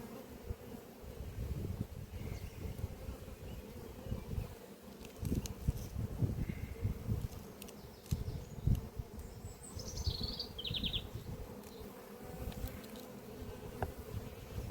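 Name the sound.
honeybee colony buzzing in apiary hive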